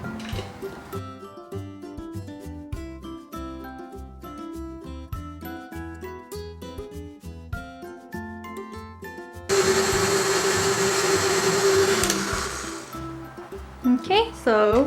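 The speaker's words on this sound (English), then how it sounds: "So the next thing we're gonna do is to whip our egg whites till it hits stiff peak" An electric mixer with beaters whips egg whites to stiff peaks, its motor whir steady and loud from partway through after quieter clinking and background music, with speech nearby.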